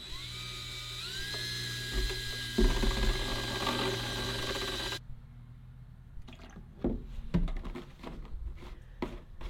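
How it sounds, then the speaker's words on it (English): Herbicide is mixed in a sprayer: a steady mechanical whir with a rising whine runs for several seconds, then gives way to irregular clicks, rattles and sloshing knocks close by. "once I get my herbicide in, I'm gonna give it a good mix"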